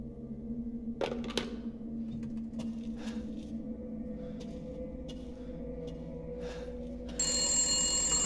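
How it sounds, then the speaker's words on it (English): A telephone rings inside a quiet, tense scene in the horror game Resident Evil Village, repeated electronic rings over a low droning hum, with a brighter tonal burst near the end. "Pick up the phone, Ethan"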